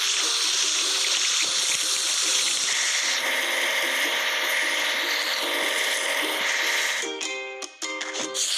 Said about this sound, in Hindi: ड्रिल